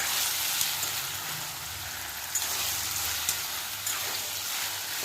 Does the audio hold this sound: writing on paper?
no